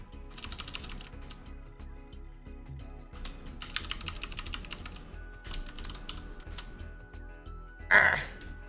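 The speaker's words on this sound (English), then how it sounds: "Oh god, okay, typing like this sucks." Rapid clicky typing on a computer keyboard, heard close in irregular bursts separated by short pauses, with a louder bump near the end.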